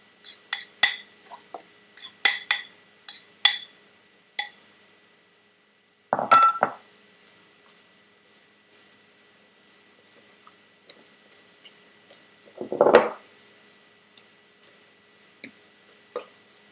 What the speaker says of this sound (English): I'm going to mix everything together.